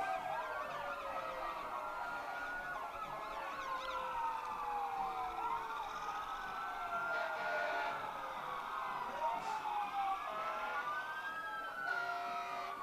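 Fire truck sirens from county crews at a 2021 Christmas parade wail and sweep continuously, several overlapping tones rising and falling at moderate distance throughout.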